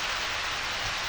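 Steady, even rain hiss from the video game Harvest Moon, a continuous soft wash of falling rain with no talk over it.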